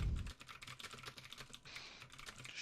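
Quick, light keystrokes on a computer keyboard tap out an irregular, fairly close patter over a low steady hum, with no speech.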